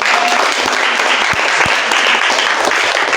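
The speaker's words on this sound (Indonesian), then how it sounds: "Tepuk tangan." Loud, close audience applause fills a gathering at a Ceragem Center, a dense, even burst of clapping that holds steady throughout with no speech.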